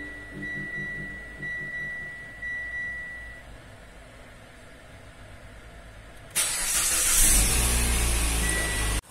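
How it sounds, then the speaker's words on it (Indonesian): A Mitsubishi Outlander Sport engine starts up partway through, jumping from a quiet hum with a faint tone to a loud, broad, steady idle roar that continues to the end. "Nah, ini langsung kita hidupin dulu aja mesinnya. Oke, kita hidupkan mesinnya."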